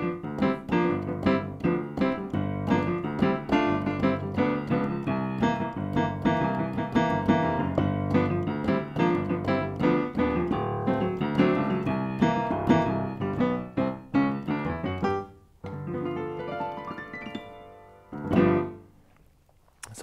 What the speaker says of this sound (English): this is the sound of the Yamaha U1.